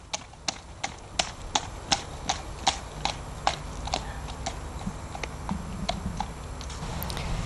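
A ridden horse's hooves strike the ground in an even, regular clip-clop, about two beats per second, clear and close at first, then softer and buried under background noise; the horse moves with little push from behind.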